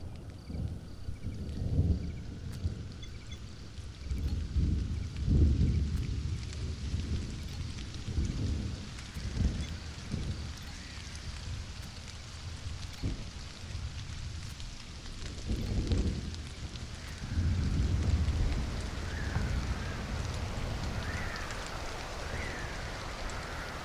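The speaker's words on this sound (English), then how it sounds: "Another thunderstorm." Thunderstorm with rain in the video game Stranded: Alien Dawn, a steady wash of rainfall with deep rumbling thunder rolls rising and fading throughout, plus a few faint chirping tones later on.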